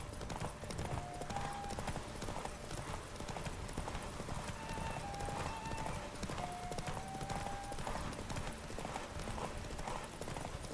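Roach, Geralt's horse in the video game The Witcher 3, gallops with a fast, steady clip-clop of hooves that runs the whole time over a constant bed of game music and ambience.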